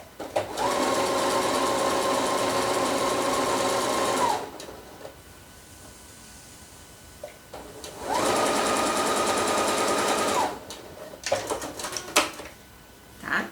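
Domestic sewing machine stitching fabric for a Christmas border, two long loud bursts of fast, even whirring stitches separated by quiet handling of cloth, with a few clicks and thumps at the end.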